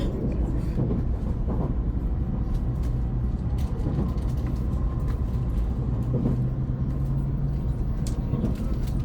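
Steady, loud rumble of a Shinkansen bullet train running between stations, heard from inside a passenger car, with continuous low-frequency roar and faint rattles throughout.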